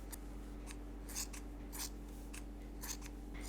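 Sharp scissors snip through fabric strips for a rag rug, giving a few brief, crisp cuts close by over a steady low hum.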